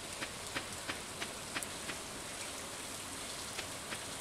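Faint, steady rain falling in the farming game Stardew Valley, a constant soft hiss dotted with small periodic tapping drops, with no voices over it.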